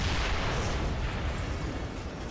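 A gas fire explosion in Ghostbusters: The Video Game, set on the streets of New York near Times Square, gives a loud, sustained rumbling roar of blast and burning for a couple of seconds, with no voices.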